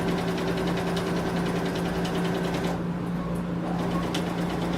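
A sewing machine stitches a fabric bag, its motor buzzing in a loud, steady, rapid whir that pauses briefly partway through and then resumes, close up with no talk.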